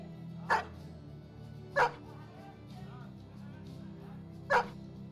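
Dogs in the video game Battle Brothers give three short, sharp barks spaced a second or more apart, standing out over a low droning game background.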